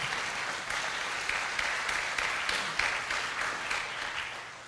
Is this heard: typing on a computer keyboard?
no